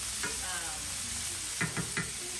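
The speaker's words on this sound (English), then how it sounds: "just cook it fast because it has to cook on high heat" Samosa filling frying over high heat in a pan, a steady sizzle with a few scraping stirs as the mixture is turned, close and moderately loud with no talking.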